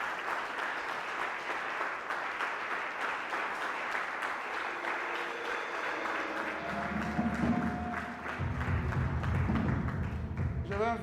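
Congregation clapping for the Lord at a French-language church deliverance service, steady dense applause throughout, swelling louder near the end with low rhythmic thumps and voices mixed in.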